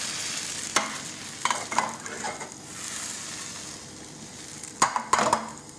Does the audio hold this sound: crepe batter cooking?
yes